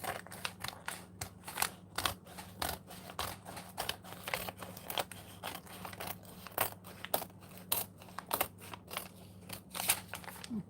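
Scissors snipping and trimming paper for an art journal page in a craft room, a rapid run of crisp, close cuts and rustles repeating steadily, with a faint low hum underneath.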